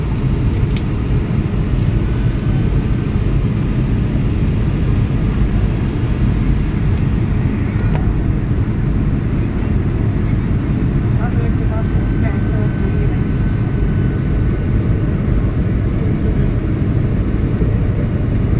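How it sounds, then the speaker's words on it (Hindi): A passenger airplane on final approach to land at Bangalore airport, heard from the cabin as a loud, steady broadband roar of engines and airflow that holds constant throughout. "we are about to land at Bangalore airport"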